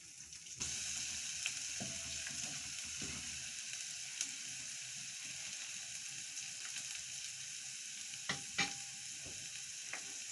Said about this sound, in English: So we'll start by putting our ginger garlic paste into the oil.